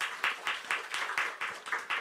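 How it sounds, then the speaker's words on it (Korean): Congregation at a Korean church Sunday service applauding, a brief, steady wash of clapping from many hands with regular swells, moderately distant and without talk. "박수 한번 하겠습니다"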